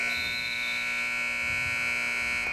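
At the end of a women's alumni basketball game, a loud, steady electronic buzzer sounds continuously through the whole moment, with faint gym noise underneath.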